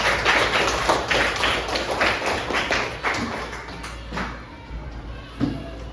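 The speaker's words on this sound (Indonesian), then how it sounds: "tepuk tangan dulu dong untuk kita semua ya." Students in a classroom lesson clapping their hands together, a run of sharp, irregular claps and taps that thins out and fades toward the end, fairly close and moderate in level.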